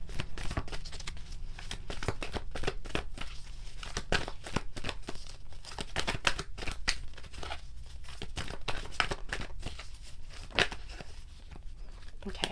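Tarot cards are shuffled and handled in a dense run of crisp papery riffs, rustles and flicks that carries on without a break, close up and moderately quiet.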